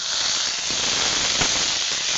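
Prawns and potatoes fry in a pan with a steady, loud sizzling hiss close up, unbroken throughout and with no voices.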